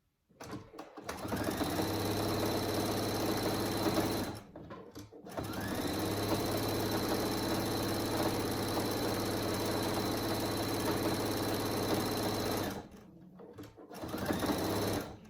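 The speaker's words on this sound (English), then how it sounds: "Keep your needle in there and pivot all the way around, and then continue sewing." Sewing machine stitching fabric for a triangle hanging animal hammock, running in long steady bursts with its motor whirring, stopping briefly twice as the fabric is pivoted, then resuming.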